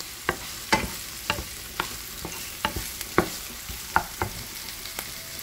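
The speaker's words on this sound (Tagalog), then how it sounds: "Yung ating onion, pag nakita nyo translucent na yan" Onions frying in a pan until translucent for carbonara, with a soft sizzle underneath repeated sharp scrapes and taps of a spatula at an irregular rhythm, close and clear.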